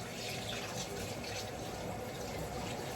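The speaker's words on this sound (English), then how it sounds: "So we'll just chuck a bit of warm or hot water if you got it, just out of the tap." Warm water from a kitchen tap pours steadily into a pan for bread, a continuous close splashing rush that lasts the whole moment with no talk over it.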